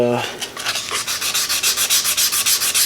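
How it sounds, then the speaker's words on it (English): Sandpaper of 400 grit rubs back and forth over the binding on a DIY Les Paul-style guitar kit body, giving rapid, even strokes in a steady rhythm close to the mic. "you can always just go right back on it just with your sandpaper"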